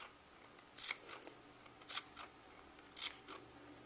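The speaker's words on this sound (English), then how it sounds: "cut just little tabs all the way" Scissors snip little tabs into fabric for covering a headband, three quiet, evenly spaced cuts about a second apart against a faint room hush.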